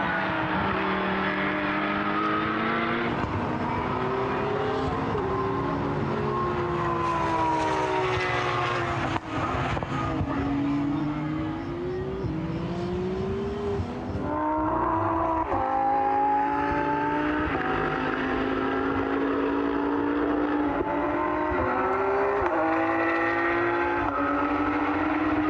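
A Lamborghini Super Trofeo V10 race car accelerates hard on a circuit, its engine climbing steeply through the gears, with repeated upshifts and other cars blending in a loud continuous roar.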